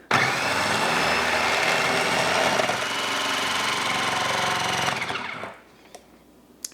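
A food processor with its plunger in place chops celery root on high, a loud steady whirring roar lasting about five seconds before it winds down, followed by a few faint clicks.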